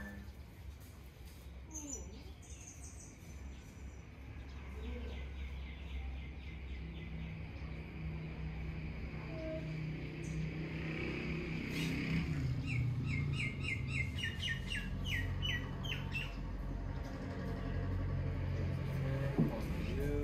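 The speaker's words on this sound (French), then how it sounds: "On va seulement écouter les oiseaux pour 10 à 20 secondes." Birds chirp and sing outdoors in short repeated phrases, fairly faint over a low background rumble of distant traffic, with the calls growing busier in the second half.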